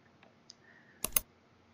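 A quick double click of a computer mouse, close and crisp, following a few faint taps in an otherwise quiet room.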